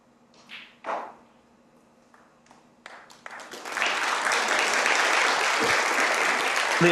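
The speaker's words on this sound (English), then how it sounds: "The applause from across the arena." A few isolated claps and thuds give way to warm sustained applause spreading across a snooker arena, building quickly and holding steady to the end.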